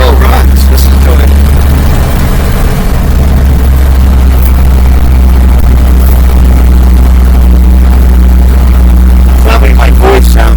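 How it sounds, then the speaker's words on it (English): The engine of a 1948 Chevy runs loud and close with a steady, heavy low rumble, and its exhaust manifold leak adds a raspy hiss on top throughout. "You hear that exhaust leak? It's got a little leak at the manifold."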